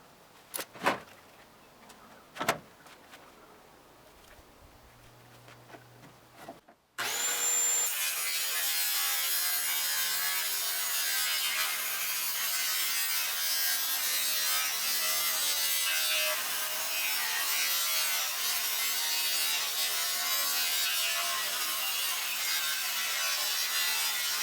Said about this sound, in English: I just have an abrasive cutoff wheel in my circular saw.